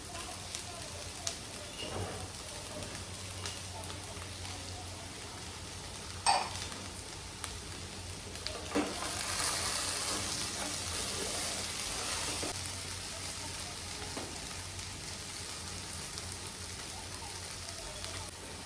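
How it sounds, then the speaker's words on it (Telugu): Onion and green chillies added to okra frying in a pan give a soft, continuous crackling sizzle that swells partway through, faint and close, with a few scrapes and taps. "ఇప్పుడు ఉల్లిపాయ పచ్చిమిరపకాయలు వేసేద్దాం"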